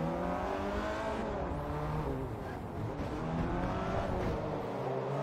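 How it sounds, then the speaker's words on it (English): A Peugeot race car engine in Forza Motorsport 3 on a short circuit, a loud, sustained howl rising and falling through the gears, with a brief tire squeal in the mix. "this Peugeot can make that kind of noise out of the engine."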